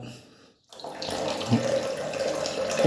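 A water tap opened gently to fill a 100-litre tank, a steady close splashing stream that starts after a brief silent gap and keeps running evenly.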